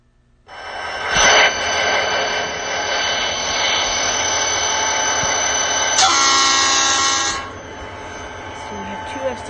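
Two SD40 diesel locomotives hauling an intermodal train in the Trainz video game rumble steadily with a bright, sustained horn blast midway, a mechanical rail soundscape with no talking.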